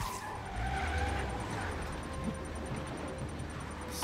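A truck in Marvel's Spider-Man rumbles along with a skidding, scraping rush of tires. The noise is fairly quiet and continuous, with a faint thud near the middle and no talking.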